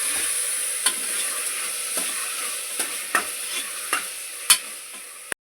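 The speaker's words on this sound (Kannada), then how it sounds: "ಟೊಮೊಟೊ ಚೆನ್ನಾಗಿ ಮಸ್ತ್ ಫ್ರೈ ಆಗಬೇಕು" Tomatoes fry in a pan for tomato bath, giving a steady, close hiss of sizzling broken by several sharp scrapes and taps of stirring.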